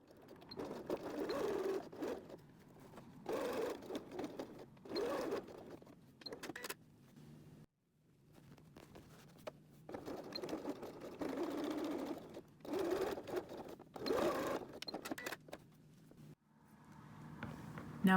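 A sewing machine runs in repeated bursts of steady whirring as it stitches a scant quarter-inch seam on a fabric glasses case, each run separated by brief pauses, close and alone.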